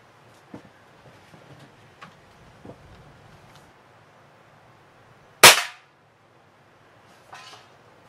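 A Crosman 362 pump air rifle, pumped 14 times, fires one sharp, loud crack after several seconds of faint handling clicks and taps; a few softer clicks follow.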